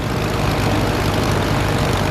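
Steady propeller aircraft engine drone in the Prepar3d flight simulator right after the throttle is cut on approach, a continuous low rumble with broadband noise, fairly loud and unbroken with no talk.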